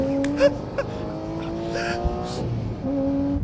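A Porsche Carrera GT driven hard on a race track, its engine droning steadily while tires squeal in sustained pitched tones that rise and fade, loud and close throughout.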